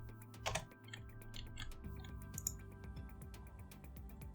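Rapid, close-up typing on a computer keyboard, with irregular key clicks running steadily and a louder burst of strokes near the start.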